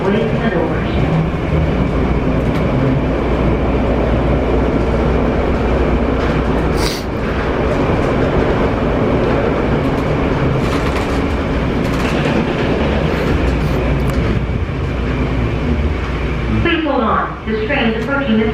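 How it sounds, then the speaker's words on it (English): Airport people mover train at Cincinnati/Northern Kentucky (CVG) rumbling steadily from inside the car, with rail clatter and a loud continuous hum throughout; a recorded announcement voice speaks over the ride. "This train is approaching the terminal."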